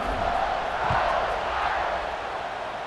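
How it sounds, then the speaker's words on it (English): A football stadium crowd roars in a broad, sustained wash of cheering just before kickoff, loud and continuous for a few seconds. "this crowd now ready to get behind them"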